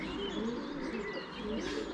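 Neighbour's pigeons coo in soft, repeated low calls under a steady wash of background noise, with a few faint chirps mixed in, moderately near and continuous for a couple of seconds.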